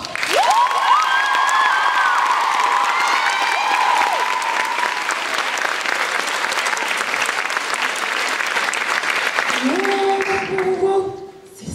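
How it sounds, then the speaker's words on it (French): Loud, sustained applause from a concert audience at a choir's end-of-season recital, honoring the musicians, a dense wash of clapping with cheers and voices rising through it, fading near the end. "nous vous demandons un tonnerre d'applaudissements pour Sam,"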